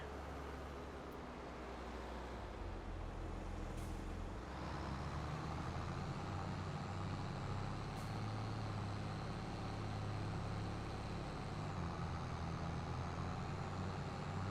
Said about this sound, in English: Oh, look at all the traffic.